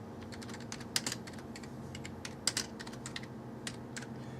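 Computer keyboard typing with a scattering of quiet, irregular key clicks over a steady low room hum, a few keystrokes standing out more sharply.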